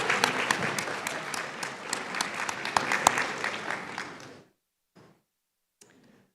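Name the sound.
audience applause at a nursing white coat ceremony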